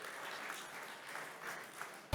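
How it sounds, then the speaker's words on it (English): An audience applauds panelists coming onto a conference stage, a sustained, moderately distant wash of clapping that holds steady for a couple of seconds. "Give a round of applause."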